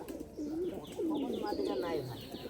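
Pigeons coo softly and repeatedly in a winter coop, low rolling calls overlapping one another with faint human talk in the background.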